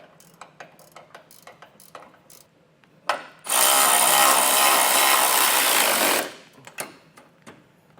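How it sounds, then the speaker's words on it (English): A ratchet tightens a bolt while a Demco tabless base plate kit is fitted to a vehicle, heard as one loud, sustained mechanical burst lasting about three seconds between quieter clicks and handling noises. "You may need to use a ratcheting wrench here to kind of get that drawn up."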